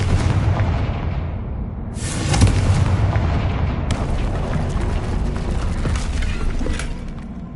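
Repeated Confringo and Bombarda spell blasts in the Hogwarts Legacy video game, with loud booming explosions and heavy rumbling crashes following each other without pause. The blasts are close and dense, with no talking.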